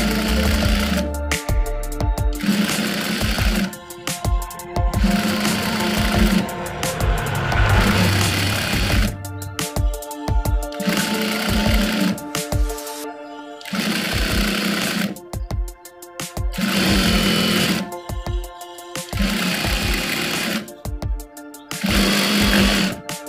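Sewing machine stitching a trouser waistband grip, close and loud, running in repeated bursts of rapid rhythmic clatter separated by short pauses, with no talk.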